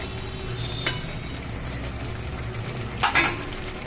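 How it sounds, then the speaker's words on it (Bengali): Minced paneer keema fries in a pan in its own released oil, giving a steady close sizzle with occasional sharper crackles and stirring scrapes. "এই দেখুন পনির নিজে তেলটা ছেড়ে দিচ্ছে"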